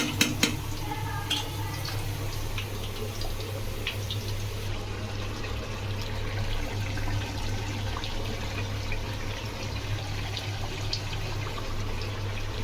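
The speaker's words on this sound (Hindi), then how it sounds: "ये भुन गया है, इसको चला देते हैं।" A hot pot of browned onions being stirred while cooking biryani, with a steady sizzle and soft scraping over a low background hum, and a few sharp clinks at the start.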